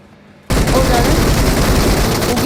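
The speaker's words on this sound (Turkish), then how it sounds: "İleriden silah sesleri geliyor bu arada." Loud, dense gunfire in a video game shooter match bursts in after half a second of near silence and continues as a sustained volley of overlapping shots to the end.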